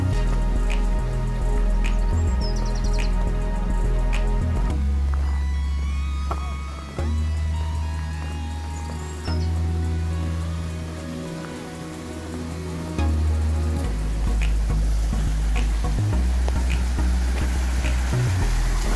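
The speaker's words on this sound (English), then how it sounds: "A little waterfall." A small waterfall on a creek gives a steady, full rush of falling water with a low rumble underneath. The roar stays constant and fairly close throughout.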